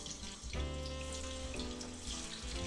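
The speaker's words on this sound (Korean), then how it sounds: "그래서 한 170도에서 한 10분간 중불에서 튀겨주세요" Buffalo wings, about a kilogram, deep-frying in oil at roughly 170°C over medium heat, giving a steady, close, hissing crackle that swells slightly after the first half-second and holds without voices.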